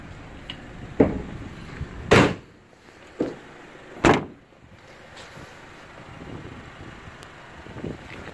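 Side loading doors on a white Citroen Dispatch van are worked, giving several sharp slams and rolling thuds spaced a second or two apart over steady outdoor wind noise.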